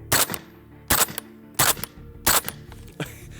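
An XCR rifle fires subsonic rounds: four sharp shots come at a steady spaced rhythm, then a fifth, quieter shot follows. Each report is close and loud and stands alone with no talk over it.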